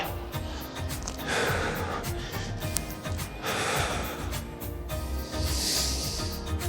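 Heavy, rhythmic breathing from a person doing a hip and ankle mobility workout comes in three loud, noisy gusts over a steady background bed.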